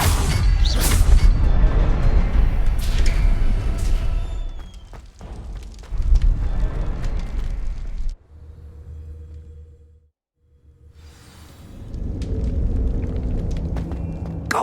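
A Confringo fire-blast spell explodes in the video game Hogwarts Legacy, with loud booming, roaring bursts early on that fade to a low rumble, a brief near-silence, then a swelling whoosh.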